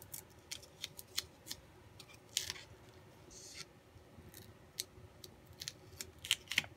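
Scissors snip through craft fun foam for a tag, a run of sharp, close clicks and cuts spread unevenly over several seconds against a quiet room, with no talking.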